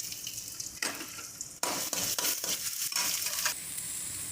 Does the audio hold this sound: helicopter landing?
no